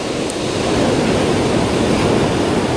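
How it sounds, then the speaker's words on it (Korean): Sea waves break along the shore at a spot used for surf lure fishing, making a loud, continuous broadband wash that swells slightly and holds steady without talk. "파도가 좀 있고요"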